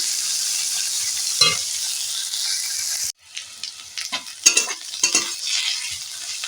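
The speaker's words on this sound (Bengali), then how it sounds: "পেঁয়াজ ভাজা হয়ে গেছে" Onions sizzle in a hot pan with a steady hiss, then clinks and scrapes of stirring break up the frying sound.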